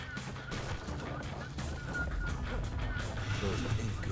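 Rapid pistol gunfire crackles through dense video game action, sharp shots repeating over a busy background of game sound effects.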